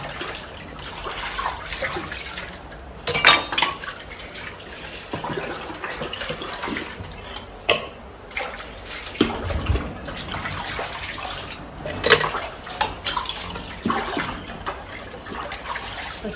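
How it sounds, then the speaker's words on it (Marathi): Dishes washed by hand under running water: a continuous gush from the tap with scattered clinks and clatters of utensils, close and fairly loud, with no talking. "मी भांडी घासली आणि गॅस बीस एकदम स्वच्छ पुसून घेतलेले आहे"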